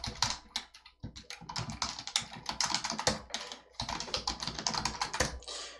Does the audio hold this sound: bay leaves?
no